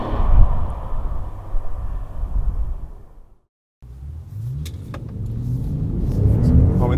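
A 2015 Bentley GT Speed in paddle-shift manual mode with four-wheel drive accelerates hard on the road, a deep rumbling engine surge that drops to near silence for a moment, then climbs again in rising pulls.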